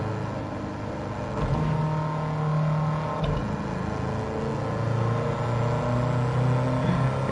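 An engine-swapped VW Bus in Gran Turismo 7 drives at speed past 100 mph, its engine a steady loud drone with rising revs and a low rumble throughout, alone with no talk.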